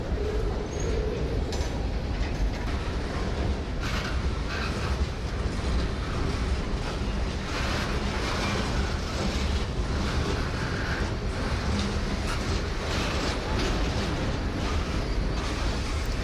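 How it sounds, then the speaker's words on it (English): A very long, slow freight train of boxcars and hoppers rolls past close by in a continuous loud rumble, with steady rattling and clanking of the cars throughout. "This very long and slow freight, which I thought was a southbound to Mobile, was actually going to work the yard"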